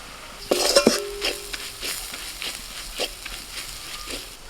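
A fried spice mixture is added and stirred into a pan for a green jackfruit filling; a few sharp spoon clinks and scrapes up front, then a low sizzle with soft, irregular stirring strokes, no talking.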